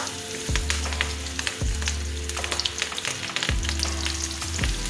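Chicken drumstick lollipops frying in a pan until golden brown, a steady loud crackling sizzle with dense pops, heard up close and continuous with no talking.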